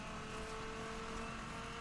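A 2003 Dodge Ram SRT-10 pickup with a Viper engine in The Crew racing game gives a steady, low engine drone, faint and unbroken throughout with no speech.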